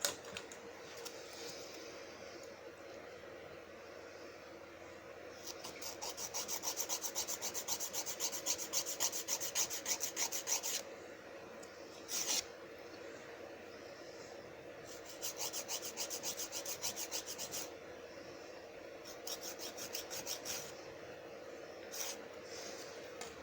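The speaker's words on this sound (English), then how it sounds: "I'm going to go ahead and file that off so no product is touching the skin" Rhythmic rasping of a nail file smoothing excess gel off a thumbnail during a natural nail growth routine, close and steady in bursts of quick strokes with short pauses, no talking.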